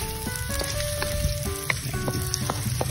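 Garlic hits hot oil in a pan with a steady, close sizzle and crackle that carries on throughout while a coconut-milk dish with bagongon shells is being cooked, with no talk over it.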